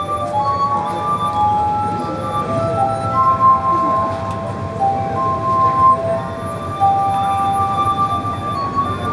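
Wine glasses filled with water played as a musical instrument in Venice, sustained ringing pure tones overlapping in a slow melody, loud and close with a faint background murmur.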